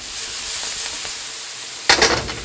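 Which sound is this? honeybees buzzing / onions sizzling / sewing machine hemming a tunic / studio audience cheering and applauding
onions sizzling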